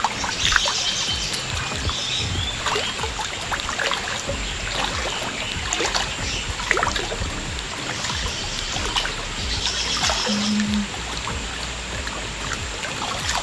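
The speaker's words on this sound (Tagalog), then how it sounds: "Malakas ang agos ng tubig." Continuous rushing, trickling water of a strong-flowing spring at Lumbo Spring flows steadily throughout, with birds chirping faintly in the background and no talking.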